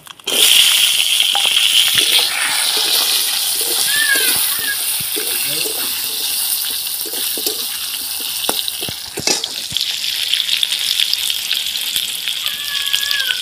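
Mango pieces dropped into hot mustard oil tempered with dried red chilli, nigella and mustard seeds, setting off a loud, continuous sizzle and spatter close by, with faint clinks of a utensil against the pan.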